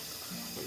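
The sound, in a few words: filling a large saucepan with tap water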